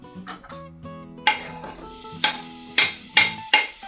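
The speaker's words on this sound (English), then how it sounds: "Add our onions and garlic. I'm going to cook the onions and garlic for about 5 minutes." Onions and garlic sizzle in olive oil in a pan, a steady close fry with a few sharp stirring scrapes and clinks of a utensil against the pan, no voices.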